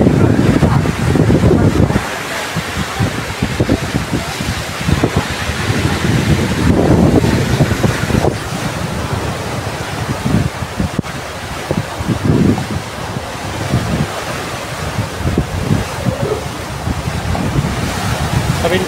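Ocean surf rolls in at the seaside with strong gusts buffeting the microphone, loud washes rising and falling over the whole stretch, with occasional faint voices underneath.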